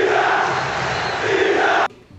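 Football supporters in a stadium roar and chant for a veteran player about to leave the club, a loud, sustained crowd wall that cuts off abruptly near the end.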